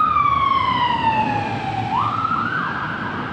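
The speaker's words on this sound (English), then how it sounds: "We do get ambulances here." A loud ambulance siren wails close by, its pitch sweeping steadily down and then jumping back up, with no talking.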